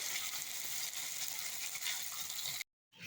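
Egg mixture frying in a pan for a Saudi-style egg dish gives a steady, close sizzle that runs without a break, then cuts to silence for a moment before it comes back.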